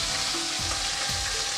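Soft pabda fish frying in hot oil, a dense continuous sizzle with low scraping stirs from a spatula, close and fairly loud, no voices.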